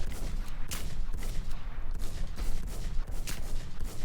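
Continuous gunfire in a shooting video game, rapid repeated shots with loud sharp bursts throughout, close and dense with no pauses.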